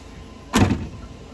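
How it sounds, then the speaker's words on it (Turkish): A car door on a cheaply bought old car is forced open with one sharp crack, followed by a brief rattling clunk, close and loud against a quiet background. "Aracımızı kapıyı açıyoruz abi."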